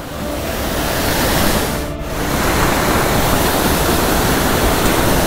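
Madasseri waterfall near Trivandrum roars with a dense, loud, continuous rush of falling water that barely changes throughout, heard close up with no other sounds.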